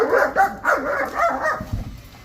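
German Shepherd with fear aggression barking aggressively, a rapid run of about five loud, close, harsh barks with growly edges, no talking.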